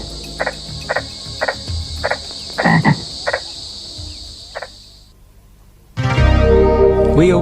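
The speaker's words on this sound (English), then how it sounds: "Frogs balloon vocal sacs in mating calls and dominate the evening chorus." Frogs croak in an evening mating chorus by a river, repeated pulsing calls in a regular rhythm over a steady insect-like drone, then a dense, louder burst of calls near the end.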